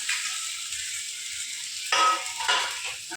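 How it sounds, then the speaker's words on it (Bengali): Boiled potatoes fry in a pan, a steady hiss of sizzling that swells louder midway as they are stirred, close and alone. "এখন এটাকে একটুখানি এদিকে ভেজে নিই"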